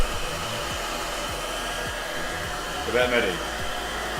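A hairdryer blows hot air onto a custom red football boot, giving a steady, close whirring roar throughout with a brief shift in tone near the end. Faint speech can be heard under it.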